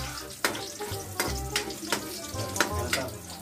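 Garlic frying in a pan at home, sizzling oil with several sharp scraping stirs and taps of a utensil at regular intervals, close and moderately loud, no voice.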